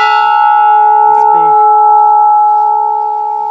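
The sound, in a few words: large temple bell ringing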